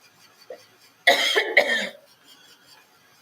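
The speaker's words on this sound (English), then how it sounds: "I don't know where this cough came from." One close, loud cough burst splits into two quick hacks, surrounded by near silence.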